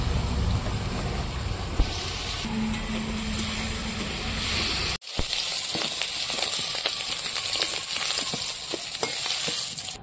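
Prawns frying in a pan of hot oil give a continuous loud sizzle with crackling pops, briefly cut off midway and then resuming as strongly as before.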